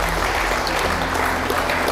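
A church congregation claps in a brief, dense, even burst that stays steady from start to finish, a close wash of many hands.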